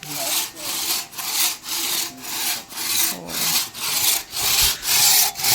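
Agarwood being cut with a hand saw, steady rhythmic back-and-forth strokes, about a dozen close rasping passes in even succession with no talk.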